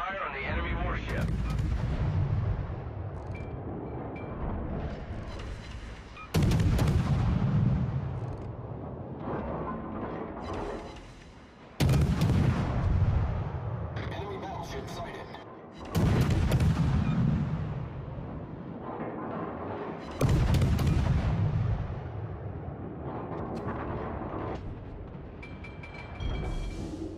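Warship main guns fire in World of Warships during a ranked battle, with five heavy booming salvos spaced several seconds apart, each followed by a rumbling decay over constant battle noise.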